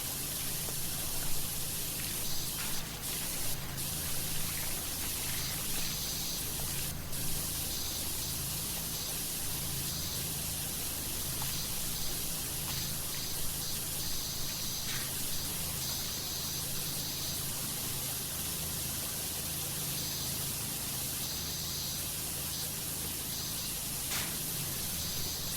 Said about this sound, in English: I'll just jump and spray.